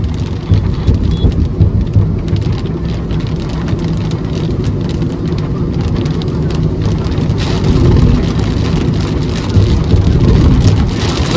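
Heavy rain pelts a car driving along the Kalyani Expressway near Kolkata, a dense continuous drumming and hiss over low road rumble that swells slightly toward the end.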